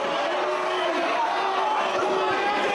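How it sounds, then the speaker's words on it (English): Wrestling crowd cheering and roaring at a 2007 Manhattan Mayhem II tag-team match: a steady, dense wall of arena noise with no breaks, while a commentator talks over it. "Crowd urging him on here."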